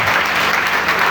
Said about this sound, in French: Acclame très fort le ciel.